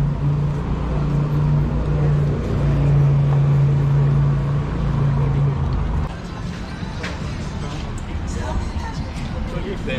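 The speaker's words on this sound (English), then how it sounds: "There's another bus" City bus number 502 rolls along an evening street in Ayia Napa, Cyprus, a steady engine rumble and road noise swelling and then easing off as it passes, with people talking over it.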